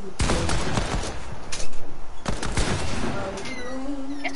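Pistol shots and bursts of gunfire from a shooter video game, loud and close, with clusters of sharp reports around a louder volley midway and more shots trailing off at the end.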